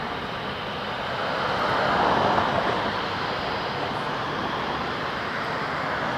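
Broad steady jet roar from an airliner departing at Toronto Pearson Airport, likely an A320neo, swelling slightly at mid-point and holding at a distant, sustained level throughout.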